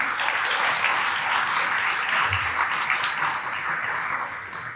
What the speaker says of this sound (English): How about a round of applause for the portfolio companies?